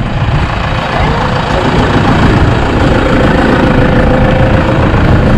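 A jet ski engine roars on a lake, a loud, dense, continuous drone close by that holds steady with no breaks.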